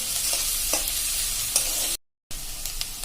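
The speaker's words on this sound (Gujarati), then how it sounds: "અને આને આપણે લો મીડિયમ ફ્લેમ ઉપર હલકા લાલ કલર થાય કાંદા ત્યાં સુધી આપણે આને કૂક કરશું." Onions cooking in a pan over a low-medium flame give a steady, bright sizzle with a few soft stirring taps, close and unbroken except for a brief silent gap near the end.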